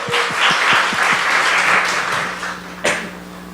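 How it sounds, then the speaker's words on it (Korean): A church congregation at a festival worship service applauds, a dense burst of clapping that fills the space for a few seconds and then tapers off, with a sharp knock near the end. "할렐루야. 박수하십시다."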